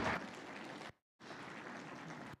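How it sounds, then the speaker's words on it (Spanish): Crowd applause for a choir at an evangelistic campaign rings out, breaks off briefly into silence, then resumes as a steady wash of clapping from many hands. "Brindemos otro fuerte aplauso para el coro Suyaña"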